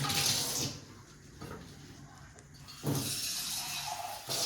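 Water splashes and pours in uneven bursts, louder at the start and again near the end, with quieter trickling between.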